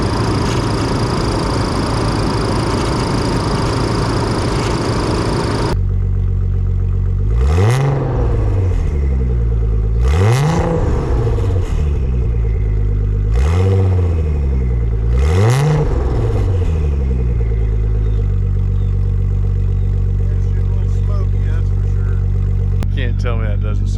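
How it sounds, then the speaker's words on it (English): A Nissan 300ZX with a muffler-only exhaust, no cats or resonators, idles roughly, then blips through four sharp revs that rise and fall before settling back to a steady idle, close and loud. "It doesn't have cats or resonators, it's just pure mufflers, so for it being that, it sounds pretty good."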